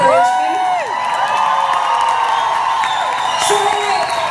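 A concert audience at KOKO in London cheers loudly for Tegan and Sara, with whoops, shouts and scattered clapping. The crowd roars continuously and stays close and dense for several seconds.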